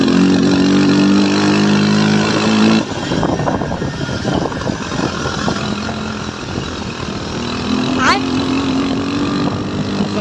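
A motorbike riding along a road, its engine droning loudly and steadily with a gear change partway, wind rushing over the microphone and a voice talking over it.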